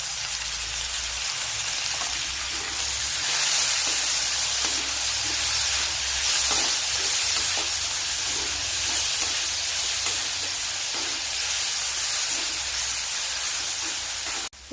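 Chopped tomato sizzling in a hot pan while frying prawns, a steady loud hiss and crackle of oil and steam that carries unbroken for about fifteen seconds, with no voices over it.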